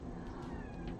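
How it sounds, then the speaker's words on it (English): A cat meows faintly in a quiet indoor room, with a couple of brief soft mews over low background hiss and no talking. "See, there is a cat."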